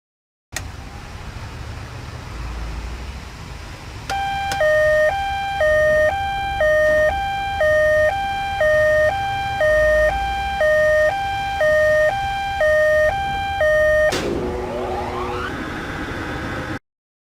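An alarm horn sounds in a motor control timer circuit demonstration. After a few seconds of background hum, it gives a loud, regular two-tone alternating wail for roughly ten seconds, then stops sharply.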